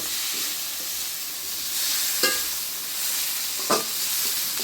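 Potatoes frying with spice paste and ground coriander in a pan, a steady close sizzle with two brief scraping stirs of the spatula standing out.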